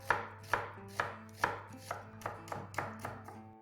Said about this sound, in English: The first thing is to slice onions, and this is roughly sliced onions.